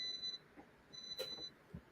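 A kitchen timer beeping faintly during leche flan preparation, two short high electronic beep bursts about a second apart in a quiet room.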